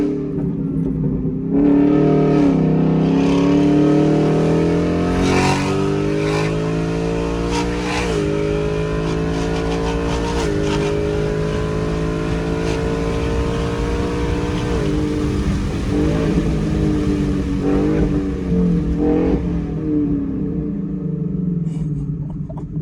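A 2018 Ford Mustang GT with its muffler fallen off drives in Sport Plus mode, its loud raw V8 droning close and steady, rising and falling through gear changes with sharp revving surges, no talking.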